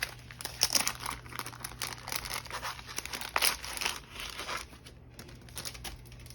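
Crinkly plastic diamond painting packaging being opened by hand, a close, continuous rustle of crumpling and tearing wrap with a few sharper crackles, no talking.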